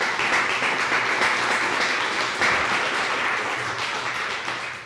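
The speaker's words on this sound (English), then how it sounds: "Let's give them a round of applause, please." A crowd at a fundraiser dinner applauds a sponsor with steady, full clapping. The sound stays dense and fairly close throughout and eases slightly at the very end.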